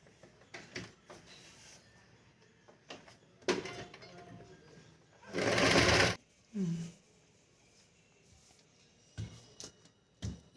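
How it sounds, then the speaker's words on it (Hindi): Sewing machine stitching a belt for a semi-Patiala salwar, heard as one short loud burst of running among scattered clicks and handling knocks, close by with quiet pauses between. "तो पहले हम इसकी सिलाई लगाते हैं।"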